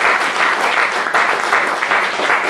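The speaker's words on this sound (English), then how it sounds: "Give him a round of applause." An audience at a village variety show claps steadily, a dense, even wash of applause from many hands, loud and close, with no pause.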